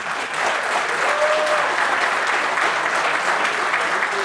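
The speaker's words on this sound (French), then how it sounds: "Merci de l'applaudir." An audience at a 2022 Unser Land campaign rally applauds loudly and steadily, a dense, continuous clapping that holds for several seconds.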